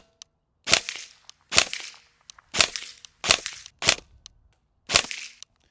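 Sharp airsoft rifle shots ring out in a steady string of six, each a crisp snap with a short trailing rattle, close and loud with quiet gaps between.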